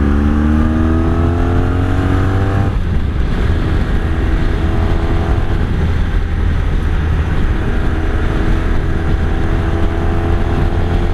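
A 1983 Honda Sabre VF750S motorcycle cruises on a highway, its engine droning loud and steady under heavy wind rush, with a rising whine early on that drops as the rider shifts gears.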